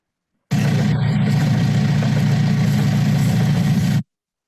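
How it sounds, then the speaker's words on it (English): A 45-horsepower tractor engine running a rotary harrow runs steadily and loudly with a deep, rumbling drone and a constant mechanical churn, starting abruptly and cutting off after a few seconds. "We have a 45 horsepower tractor that we run with this thing."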